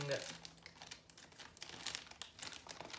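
Paper packaging crinkles and rustles while a Lego Power Functions controller is unboxed, a continuous close scrunching with uneven bursts, under quiet talk.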